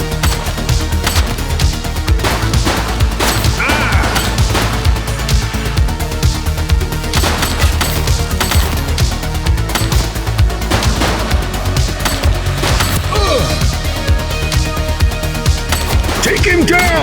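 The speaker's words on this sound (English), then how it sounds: "She's shooting!" Gunfire in The Precinct police video game, dense crackling shots and bursts over a constant loud mix of game music and effects with shouted voices.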